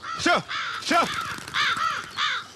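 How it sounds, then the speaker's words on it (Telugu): Crows caw repeatedly, with about five harsh, rasping calls in quick succession at close range and no speech. "కాకులు"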